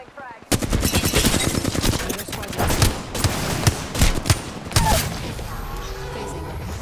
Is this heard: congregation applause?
no